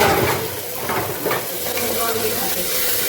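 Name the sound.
meat being fried with capsicum and spices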